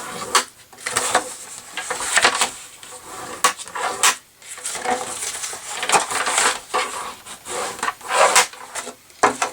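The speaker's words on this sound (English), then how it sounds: "And then we're going to burnish the score lines." Paper scoring tool burnished along score lines on scrapbooking paper, giving close, repeated dry rubbing and scraping strokes in short uneven bursts, fairly loud, with no talking.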